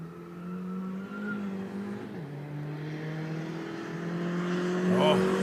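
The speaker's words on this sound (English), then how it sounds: "turbocharged Opel in the right hand and Opel versus Opel battle there" Turbocharged Opel race cars accelerate in a close battle, heard as a steady distant engine drone whose pitch shifts and rises toward the end, with a commentator talking over it.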